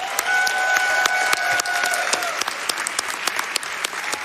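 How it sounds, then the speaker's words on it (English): An audience at a speedrunning charity marathon claps as a dense, sustained round of applause. It is loud and continuous, with a faint tonal hum briefly underneath. "So can I get a round of applause for just these two alone?"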